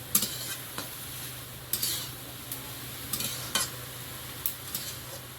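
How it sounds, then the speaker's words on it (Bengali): Dried red chillies frying in a pan, a soft steady sizzle broken by intermittent sharp scrapes and taps of a spatula, close and unhurried, no voices. "শুকনো লঙ্কা কটা ভেজে নিই"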